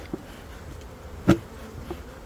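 Honeybees buzz faintly around an open hive during an inspection, with a few brief louder passes, one bee droning close by for a moment against a quiet background.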